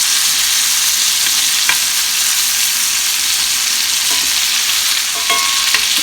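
Pork chops in butter and garlic crackle and sizzle steadily in a hot skillet, a loud, dense, continuous fry with a few faint clinks near the end.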